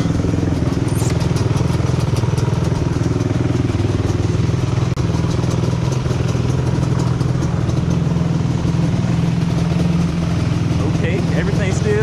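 A 2003 Yamaha Banshee two-stroke engine runs steadily after a kick start, a loud, close, continuous buzzing idle with a rough rattly edge that holds throughout.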